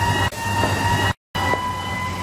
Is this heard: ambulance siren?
yes